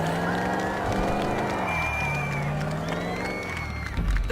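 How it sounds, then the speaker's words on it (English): A crowd applauds and cheers at the end of totality during a total solar eclipse, with mixed voices, whistles and clapping spread across the open air. "Everyone applauding and cheering because they know that it has been the end of totality."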